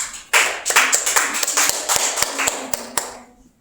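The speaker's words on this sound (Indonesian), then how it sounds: "sekali lagi beri aplaus dulu untuk kelompok 1" A class claps for group 1 after their answer, a burst of many hands applauding close by for about three seconds before tapering off.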